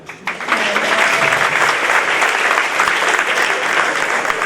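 A room full of people at a high school sports awards ceremony breaks into steady, enthusiastic clapping that swells quickly and holds at full strength.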